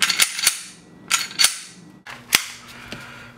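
A Glock 19 slide being fitted back onto the frame rails, several sharp close metallic clacks and snaps spaced apart, with quiet handling between them.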